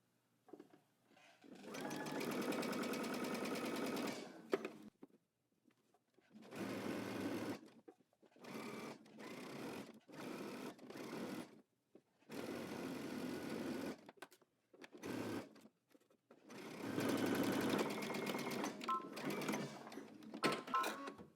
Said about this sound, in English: you're going to stitch it at the 5/8 of an inch seam, and you're going to pull as you stitch